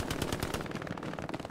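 Rapid machine-gun fire in the Hell Let Loose World War II shooter, a fast steady string of loud rounds lasting about a second and a half with no voices over it.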